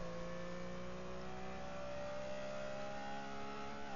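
Porsche 906 racing car in GT Legends with its engine accelerating under full throttle, a steady, close, rising engine whine held alone for a few seconds.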